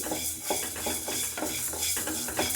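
Coriander and fenugreek seeds dry-roasting in a pan for idli sambar, stirred in a quick rhythmic scraping with a light crackle, close and continuous, with no one talking.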